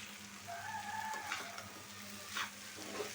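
An egg bhaji sizzles steadily in a pan, a continuous close frying hiss with faint scrapes of stirring and a low background hum, no voices.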